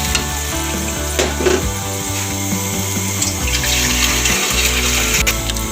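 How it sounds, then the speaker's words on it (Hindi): Water poured into a pot of chicken for haleem makes a continuous, loud rushing and splashing over a cooking background, with no talk over it. "इसमें हमने 3 लीटर इसमें पानी ऐड करना है कम से कम।"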